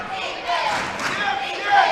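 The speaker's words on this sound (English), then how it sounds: "The Fort Gibson crowd getting into it right now" Home crowd cheering for the Fort Gibson Lady Tigers late in a close high school girls' basketball game against Vinita, a steady, loud wash of voices filling a gym with swells of shouting throughout.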